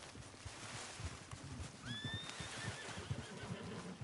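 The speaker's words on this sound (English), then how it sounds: "I'm gonna call my horse." A horse whinnies in the open-world Western game Red Dead Redemption 2, a clear rising neigh in the middle of the clip over a bed of hoofbeat clip-clops and soft ambient noise.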